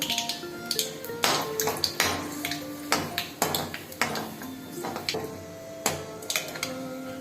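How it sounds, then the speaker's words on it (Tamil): Sharp irregular pops and crackles burst as half a spoon of mustard seeds fry in a pan of hot oil, sputtering in quick clusters with short gaps between them. "அரை ஸ்பூன் கடுகு போட்டிருக்கேன், வெடிக்கட்டும்"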